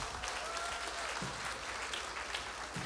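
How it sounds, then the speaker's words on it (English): Congregation at a Seventh-day Adventist church service applauding, steady dense clapping filling the room evenly for the whole stretch, moderately loud without speech on top. "Come on, give them a round of applause."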